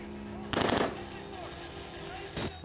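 A burst of rapid gunfire in Outlast: Whistleblower, a loud automatic volley lasting under half a second, followed later by a second shorter shot over a low, tense game backdrop.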